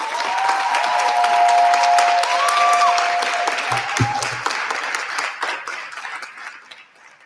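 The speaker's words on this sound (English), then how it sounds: "May we hear it, the loving, loving sound of applause for Steve Sneed and Isiah Anderson." Outdoor crowd applause at a 50th anniversary block party, dense clapping sustained for several seconds, with a brief electronic tone and a low thump partway through before the clapping gradually fades.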